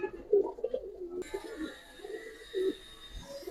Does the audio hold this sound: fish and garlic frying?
no